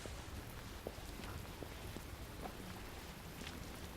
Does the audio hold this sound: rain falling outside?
yes